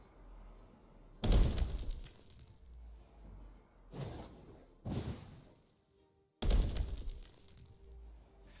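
Items get smashed in the video game Pulatia: four sharp breaking crashes, each trailing off in crumbling debris, loud and close, separated by brief near-silent gaps.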